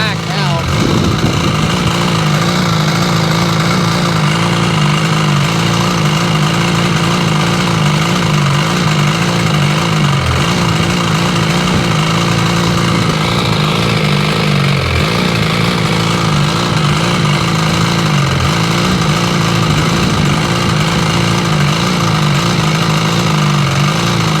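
A Seadoo RFI 787 jet ski engine with a hard-start fault, running steadily with a constant buzzing drone at close range, loud throughout with slight dips in pitch.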